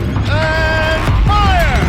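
A mechanical gun turret swivels in a Horizon Zero Dawn cutscene, giving off a loud, creaking whine that rises and bends in two long sweeps, with no voices.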